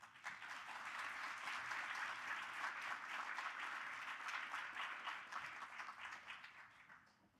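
Steady crowd applause at an award ceremony for junior finalists, a dense wash of many hands clapping together, sustained and fairly distant before fading toward the end.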